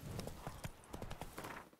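Horse hooves clip-clop in a steady, fairly quick rhythm as a mount sets off in The Witcher 3: Blood and Wine, the hoofbeats close and distinct over a low game ambience.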